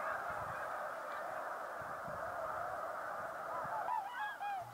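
Snow geese returning to their lake refuge honk in a dense, continuous chorus from a large flock at middle distance, with a few clearer individual calls rising near the end.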